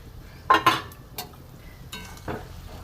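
Fried eggs are dropped into a simmering egg dopiaza curry: a few soft splashy clatters and spoon scrapes against the pot, with quiet bubbling between them.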